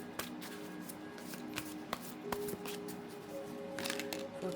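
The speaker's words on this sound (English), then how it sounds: "So let me shuffle the cards and let's see what happens." Tarot oracle cards are shuffled by hand up close, a quiet run of soft riffling and slapping with sharp card snaps scattered throughout, no voices.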